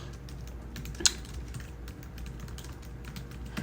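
Light typing on a computer keyboard, quiet soft key taps in an irregular patter with one sharper click early on, heard alone at close range.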